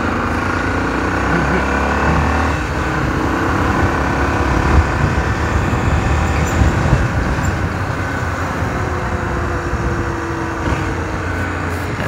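A motorcycle rides and makes a quick U-turn through busy traffic on Avenida Abdias de Carvalho in Recife, with a steady close-up roar of engine and road noise and surrounding vehicles under it.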